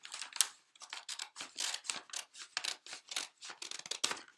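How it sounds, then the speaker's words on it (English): Scissors snip through the bottom of a brown paper bag, a quick series of crisp, close cutting and rustling strokes in an even rhythm, alone without talk. "I'm just going to cut off the bottom of my paper bag"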